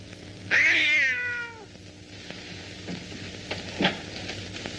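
A single clear, drawn-out cat meow close by, followed by quiet background with a couple of soft clicks or thumps.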